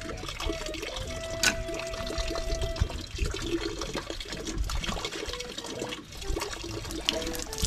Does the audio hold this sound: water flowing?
yes